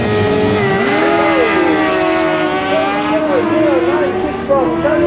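X-Class racing bikes at Tarlton Raceway revving loudly, with several engine notes overlapping and swooping up and down in pitch, close and continuous.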